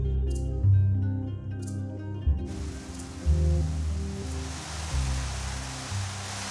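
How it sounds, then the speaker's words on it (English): Torrential rain pours down, a broad steady hiss lasting throughout, with low musical tones playing underneath and a brief high chime early on. "Torrential rain forces Thierry to take shelter."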